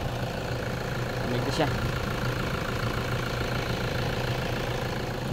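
A Toyota Hilux engine idles steadily with its radiator fan roaring loudly at idle-up, a continuous broadband hum with low drone, while a person speaks briefly over it.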